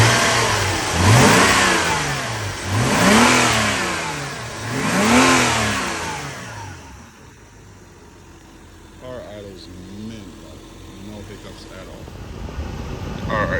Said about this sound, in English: give it a little rev for y'all.